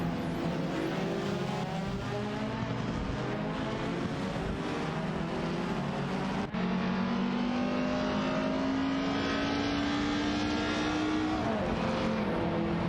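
A BMW 2002 and an Alpine A110 battle in a video game race, their engines a continuous, even drone with tones that slide up and down as they accelerate. Other racing engines blend in steadily throughout.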